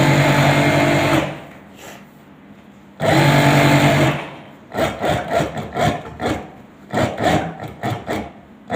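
A sewing machine stitching trouser pieces runs in long steady whirring stretches, then in short rapid bursts of stitching with brief pauses between.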